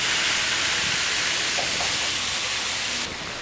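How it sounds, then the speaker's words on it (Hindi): Bread topped with veg malai sizzles on a hot tawa as it is pressed down and roasted, giving a steady loud hiss that drops slightly near the end. "ये दबाते हुए सेकूँगी इसको गरम तवा पर"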